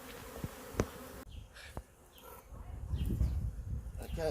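Wild bee swarm in New Zealand buzzing as a rising, continuous drone that grows louder and fills the second half, with a few sharp handling knocks early on.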